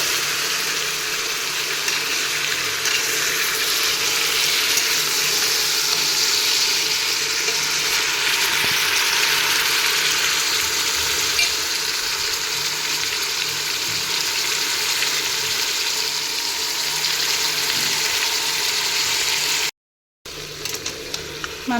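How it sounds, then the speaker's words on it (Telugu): Marinated chicken and onions frying in a pressure cooker, a steady close broadband sizzle holding at even loudness throughout, with a brief dropout near the end. "దీనిలో ఇప్పుడు మనం అన్నీ కలిపి పెట్టుకున్న చికెన్ వేసేయాలి."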